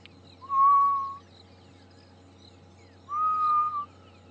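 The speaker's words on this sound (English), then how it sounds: "Hear a grey-headed bushrike in the background" A grey-headed bushrike, the ghost bird, gives two long, drawn-out whistled notes a couple of seconds apart, clear and fairly close on an otherwise quiet morning safari drive.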